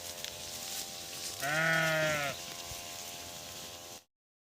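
A single loud sheep bleat from a flock grazing in a forest, wavering and drawn out for about a second, rises above a steady outdoor background hum.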